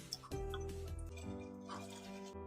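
Bay leaf oil is strained into a dark jar, with light clinks of glass and a soft trickle and drip of liquid over a low background hum.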